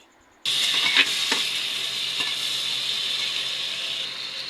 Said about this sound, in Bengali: এখন ভালো করে মরিচ পেঁয়াজগুলো ভেজে নেবে